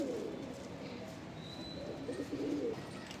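Madrasi pigeons coo softly in low, repeated rolling bursts that swell toward the end, close by against a faint background hiss.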